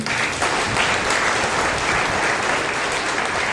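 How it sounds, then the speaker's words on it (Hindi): A congregation at a Monday prayer meeting claps loudly and steadily, a dense, close wall of applause that holds at full strength throughout with no talking. "प्रभु को जोर से हम ताली बजाएंगे।"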